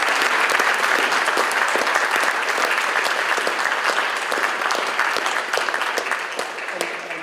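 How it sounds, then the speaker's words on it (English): Sustained audience applause at a fellows' induction ceremony, a dense, steady wash of many hands clapping throughout, fairly loud and tapering slightly toward the end. "Round of applause to"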